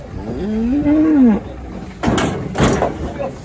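A cow lets out a long, loud moo up close, followed by a couple of clattering knocks and bumps nearby.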